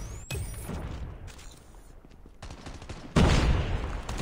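Gunfire in the video game Call of Duty Mobile, bursts of rapid shots with a louder close burst near the end, no talk.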